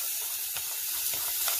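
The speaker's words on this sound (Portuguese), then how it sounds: "Aquele alho que eu bati, agora eu vou jogar dentro da panela para dar uma leve refogada nele." Crushed garlic sizzles in a spoonful of hot oil in a cooking pan, a continuous close crackling hiss with small spitting pops throughout.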